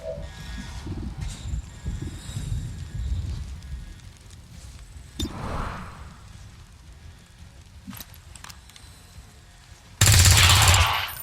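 Automatic gunfire in XCOM 2, bursts crackling in the first seconds, a sharper shot near the middle, and a loud blast of fire near the end.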